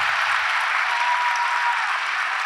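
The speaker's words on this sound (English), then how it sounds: "We got to do one more round of applause for Dr." A morning church congregation gives Dr. Howard another round of applause: thick, even clapping, loud and sustained from start to finish with no voices on top.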